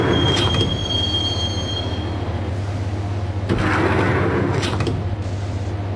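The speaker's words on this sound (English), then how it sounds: "the train doors had already shut behind me, and I was in for the ride" Train ride in the video game Max Payne: a loud, steady low rumble of rolling carriages fills the whole stretch, with sharp metallic wheel squeals rising and fading at intervals and no voices.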